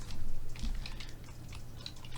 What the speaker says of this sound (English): I'm typing in the -2